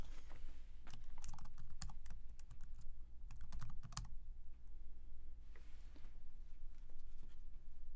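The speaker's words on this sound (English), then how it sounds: "begin typing the name or EnviroStore number of your project into the search field" Bursts of rapid keyboard typing, close and crisp, in a few quick runs separated by short pauses over a low steady hum.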